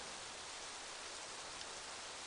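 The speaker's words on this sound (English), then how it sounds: "Oh, yeah, it's raining." Dense, continuous hiss of rain falling in the video game Rising World, an even wash of rain with no breaks and no voices.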